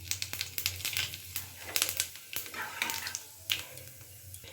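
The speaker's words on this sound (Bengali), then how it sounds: "এবার তেলটা গরম আছে, তেলের মধ্যে দিয়ে দিচ্ছি গোটা জিরে ফোড়ন।" Whole cumin seeds drop into hot oil while making a Bengali potol kalia, giving a quiet run of irregular crackles and small pops over a low background hum.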